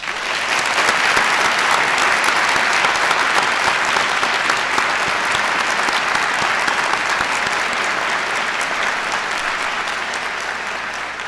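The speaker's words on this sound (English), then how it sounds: "I'd like to ask the audience to join me in another round of applause for this very special soldier" An audience gives a long, steady round of applause for soldiers in a hall. The clapping is dense and sustained throughout and fades slightly at the end.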